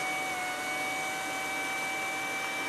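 A 12 V to 220 V Tataliken-1600 inverter runs steadily, giving a continuous close hiss with two thin, constant high whines held throughout and no voices.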